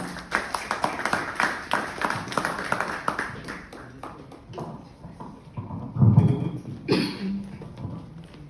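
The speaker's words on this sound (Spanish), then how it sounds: "Un aplauso, por favor." At a literary tribute event in Peru, the audience gives a poet steady applause of rhythmic, fairly close hand claps that thins out near the end, with a cough and a few murmurs.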